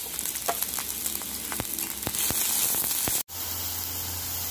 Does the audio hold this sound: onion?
yes